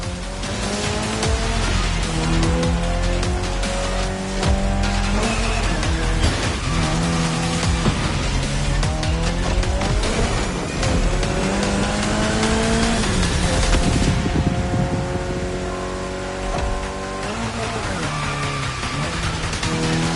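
Race cars in The Crew Motorfest driving flat out, with loud, continuous engine roar that climbs and falls through gear changes and repeated tire squeals on corners, steady throughout with no talking.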